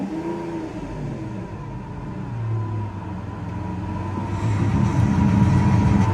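A Lamborghini Aventador engine running after a push-button start, a steady low rumble and whir that swells louder toward the end.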